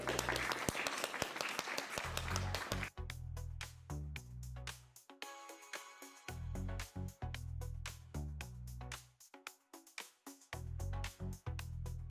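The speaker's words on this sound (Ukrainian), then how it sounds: "Оплески." Quiet clapping from an audience at a Poltava painter's solo art exhibition, a brief patter at the start that soon gives way to tonal, music-like sound at low volume.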